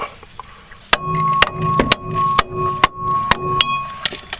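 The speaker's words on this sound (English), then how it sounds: "hit it with the hammer and it broke loose" A hammer strikes a strut spindle on a Dodge Caliber about eight times at an even pace, each blow a sharp ringing clang with a brief metallic tone.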